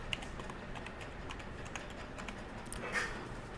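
A password is typed on a computer keyboard, producing a quick run of soft, close key taps in an uneven rhythm, quiet against a faint room hiss.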